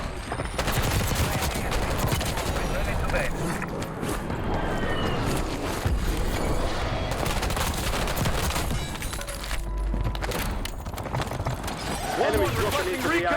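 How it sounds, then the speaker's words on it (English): Gunfire in Call of Duty Warzone on Rebirth Island, dense and loud bursts of automatic fire and rapid shots packed throughout, with in-game voice callouts heard over the shooting. "Taking effective fire!"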